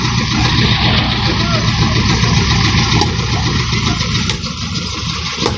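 A motorized engine used while fishing runs steadily and loud throughout, a continuous mid-pitched drone with a faint voice underneath.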